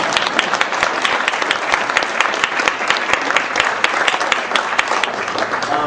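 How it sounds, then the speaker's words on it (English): An audience at a talk breaks into sustained applause, dense overlapping clapping that stays loud and even for several seconds. "Now, clap, because this is a great thing."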